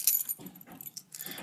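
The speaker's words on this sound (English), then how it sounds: "nothing special, just keys, house keys, compass" A ring of house keys jangles close by in short metallic bursts, with a brief pause in the middle before the rattling picks up again.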